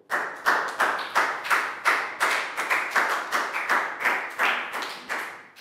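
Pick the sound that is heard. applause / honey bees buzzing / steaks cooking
applause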